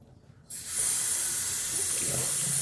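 Water runs from a bathroom tap onto an alum block after a shave, a steady close hiss that starts abruptly and continues without pause.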